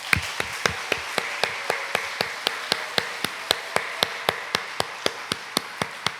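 A church congregation claps together in a steady, even rhythm, sharp regular hand claps sounding roughly three times a second with no speech.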